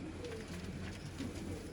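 Teddy pigeons coo softly and repeatedly in a loft, faint low murmurs over steady background noise, with no talk.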